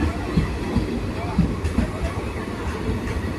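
Steady low rumble of a moving train interior with rhythmic rail clatter throughout, a faint voice murmuring underneath.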